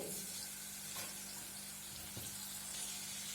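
Soy sauce goes into a pan of frying garlic, giving a steady, low hiss of sizzling with a few soft stirring scrapes and no voices.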